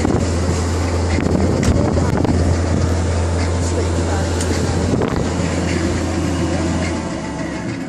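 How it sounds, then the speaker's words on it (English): The air-conditioning fan in a new 2014 stretch limousine blows hard, making a loud and steady broadband rush with a low hum under it. The rush eases slightly at the very end. "As you can see, the fan is extremely strong, so it blows very cold."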